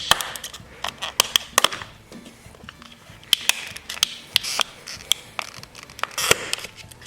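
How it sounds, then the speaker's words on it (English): A plastic housing is pried apart by hand, giving a series of sharp clicks, snaps and creaks in irregular bursts, close and fairly loud. "This one's being a little difficult to pry apart."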